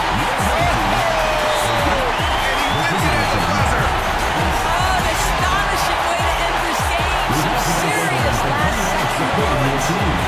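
Dense home crowd roaring and cheering after a game-winning buzzer-beater by Clarkson in a Gilas Pilipinas vs Busan basketball game, a loud sustained wall of noise with whoops and applause and an announcer talking over it.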